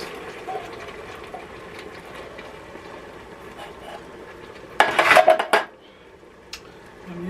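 Canned corn is drained in a kitchen: a short, loud burst of metallic clatter and pouring liquid rises out of a low background hum, then stops.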